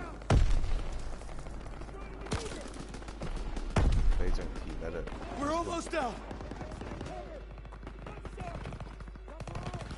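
Gunfire in the World War II shooter Call of Duty: WWII, with two loud close shots early on and scattered bursts beneath near-continuous talking between characters.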